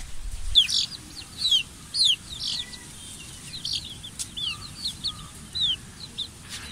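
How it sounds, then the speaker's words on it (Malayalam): Several 2.5-to-3-month-old native chickens cluck and call in short bursts close by in a coop, with a steady low rumble underneath and no talking. "ഈ കൂടിലുള്ള കോഴികൾ"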